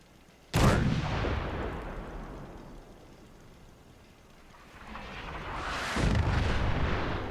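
Artillery cannon firing in the video game Fallout 4: one loud, sharp blast followed by a long rolling decay, then a second heavy shot near the end.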